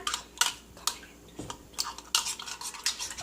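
A metal spoon clinks and scrapes against a cup while stirring Turkish coffee with sugar cubes, a series of light, sharp taps and rattles at close range with no talking.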